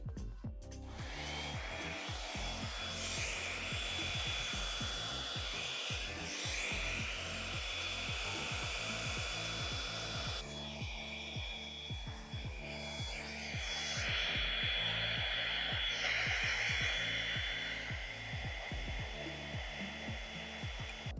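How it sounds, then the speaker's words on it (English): A blow dryer brush runs on high the whole time, drying wet hair, a steady loud whirring rush with a thin whine, its tone shifting slightly as it moves. "I'm gonna take the blow dryer brush and I'm gonna put it on high"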